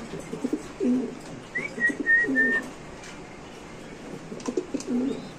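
Pigeons at a pigeon market coo in soft repeated low bursts, with a brief thin whistling call above them over steady background noise.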